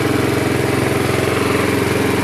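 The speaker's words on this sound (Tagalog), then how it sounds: "Ito ang aking makina." Small water pump engine supplying a concrete catfish pond runs at a steady idle-like chug, close and loud, its regular low pulsing unbroken for the whole stretch with no talk.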